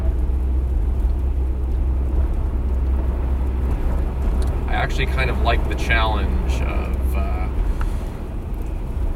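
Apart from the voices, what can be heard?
rear-wheel-drive pickup truck driving in an ice storm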